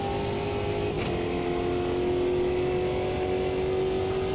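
Race car engine in a racing video game holding a steady, droning high-revving note with a slowly rising pitch, close and constant throughout with no talking.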